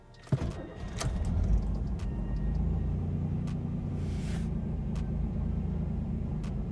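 A 1988 Pontiac Fiero GT cranks and fires up after a tune-up, a short starter whir and catch followed by a steady, close idle rumble that holds evenly to the end.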